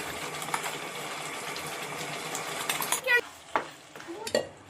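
A spoon stirs pumpkin payasa simmering with added water in a pan, a soft steady bubbling hiss broken near the end by a few sharper scraping strokes.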